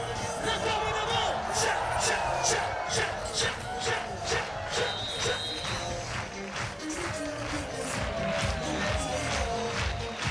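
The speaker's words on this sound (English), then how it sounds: "The crowd loving this as well." A crowd at a women's beach volleyball gold medal final in Espinho, Portugal, makes a sustained roar of cheering with rhythmic clapping. A commentator talks over the noise.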